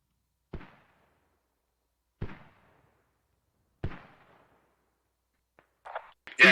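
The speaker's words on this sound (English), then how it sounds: "Four mortars are really close as well." Mortar shells exploding in a video game: three separate booms spaced about a second and a half apart, each with a short fading tail, followed by a cluster of sharper crackling bursts at the end.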